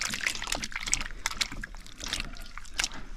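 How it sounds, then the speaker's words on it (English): Water splashes and trickles onto mashed soursop pulp in a bowl, a soft, close sloshing that continues steadily without speech. "I'll just go ahead and throw some water on it."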